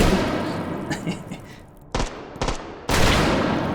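One-handed pistol fire in Half-Life: Alyx: several sharp, close gunshots in quick separate bursts over a noisy game background, with a couple of heavier shots near the end.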